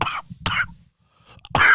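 Two quick coughs close to the microphone, a pause, then another harsh cough, with a faint voice murmuring in between.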